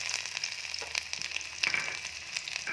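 Chopped ginger and garlic fry in hot refined oil, making a bright, crackling sizzle with quick, irregular pops. The sound is fairly close, and no one talks over it.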